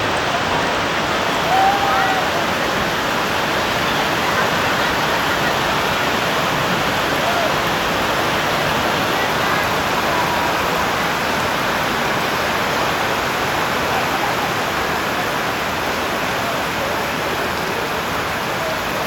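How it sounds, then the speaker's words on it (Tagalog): Heavy rain pours steadily at a resort in Orani, Bataan, a dense, loud, unbroken hiss filling the whole scene with no letup. "Grabe, lakas ng ulan."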